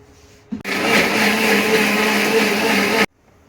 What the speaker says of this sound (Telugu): మూత పెట్టి రుబ్బేస్తాం